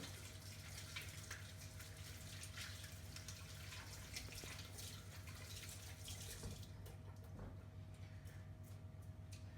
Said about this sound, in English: So first of all, we need to wash our hands.